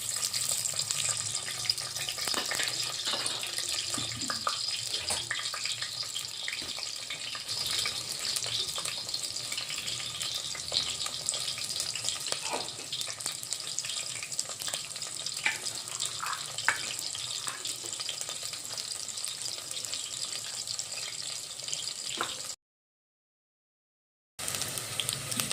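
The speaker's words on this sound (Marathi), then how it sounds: "हे तेल गरम झालेलं आहे आपलं। हा कांदा यामध्ये टाकायचा आहे।" Two chopped onions hiss and crackle steadily in two spoons of hot oil, a constant frying wash with small pops throughout, then a short silence near the end.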